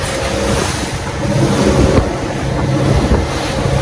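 Strong wind roars steadily across the microphone with the rush of surf beneath at sunset on a Maldives beach, loud and constant throughout.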